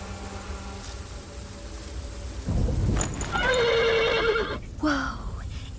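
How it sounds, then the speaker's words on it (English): A horse whinnies loudly and close by in the video game Ken Follett's The Pillars of the Earth, a rising shrill neigh lasting a couple of seconds over low rumbling background noise. "The horse nearly woke the guard."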